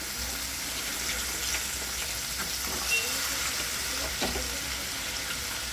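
Mixed vegetables with milk being added to roasted garlic and onion, frying with a steady, continuous sizzle and faint stirring throughout.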